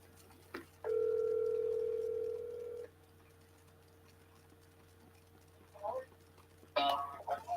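A telephone dial tone sounds steadily for about two seconds as a phone call is placed, then cuts off, followed by brief voices and a clatter near the end.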